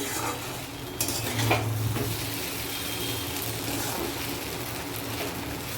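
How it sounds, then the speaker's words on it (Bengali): Boiled chow mein noodles sizzle in a pan with tomato while being tossed and stirred, a steady close frying hiss broken by a few utensil scrapes and clinks. "চাউমিনগুলো ছাঁকনিতে ছেঁকে দিয়ে দিলাম, দিয়ে ভালো করে ফ্রাই করে নিলাম।"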